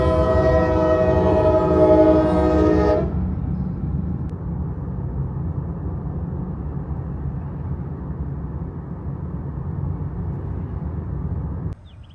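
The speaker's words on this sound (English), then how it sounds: "you can hear the horn" A freight train's locomotive horn blares loud and steady for about three seconds, then the low rumble of rail cars and road noise continues as the train passes beside a car driving through South Carolina and Georgia in the rain.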